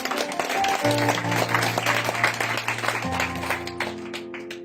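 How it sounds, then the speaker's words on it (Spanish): A church congregation applauding during a spiritual celebration service, steady dense clapping over sustained organ or keyboard chords, moderately loud and continuous. "Dale fuertes aplausos al Señor."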